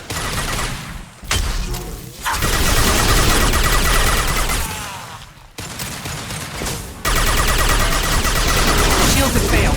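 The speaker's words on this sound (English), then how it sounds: "Stop firing at me," Gunfire in Mass Effect 2 combat: dense, sustained bursts of automatic weapon fire and impacts roar almost without pause, with brief breaks, while voices call out now and then under the shooting.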